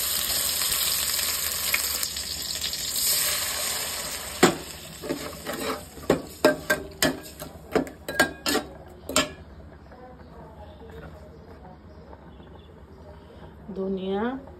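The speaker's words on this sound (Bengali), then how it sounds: "সরিষার তেলে পেঁয়াজটা একটু ব্রাউন করে ভাজতেছি" Onion browns with ginger-garlic paste in mustard oil for a fish dish, a steady sizzle and fry with a series of sharp utensil clinks and stirring knocks against the pan, and a voice talks briefly near the end.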